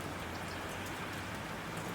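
Steady rain falling in an even, dense hiss, constant and unbroken throughout, with no voices.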